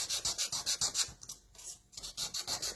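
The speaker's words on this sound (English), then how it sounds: "just take some sandpaper" Close, rhythmic scrubbing of 400 grit sandpaper on a rusty steel die: brisk back-and-forth strokes, a short pause partway through, then the strokes resume.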